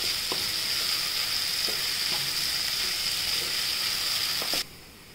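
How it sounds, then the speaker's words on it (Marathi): Fenugreek seeds and dal sautéing in a hot pan give a steady, bright sizzle, with a few soft clicks of stirring; the frying cuts off abruptly near the end, leaving quiet. "ती जरा परतून घ्यायची। व्यवस्थित परतून घेतला 2 मिनटं।"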